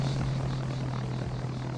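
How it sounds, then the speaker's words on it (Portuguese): Steady drone of a propeller airplane flying overhead in the game Arma 3, a constant low engine hum with broad rushing noise throughout, moderately loud and unbroken. "O cara tá voando de avião aqui"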